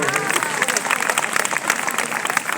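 Audience applause and clapping from a crowd, a dense continuous patter that stays at moderate loudness throughout.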